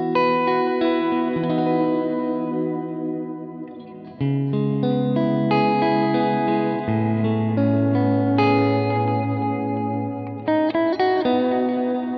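Electric guitar played through a Benson Chimera amp on its ambient clean preset, sustained clean chords and arpeggiated notes ringing with chorus, echo and reverb trails, loud and steady with no voices.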